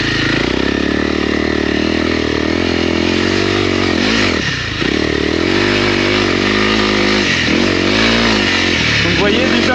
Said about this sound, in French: moteur qui a quand même du couple hein, pour un 300, pour un petit trail comme ça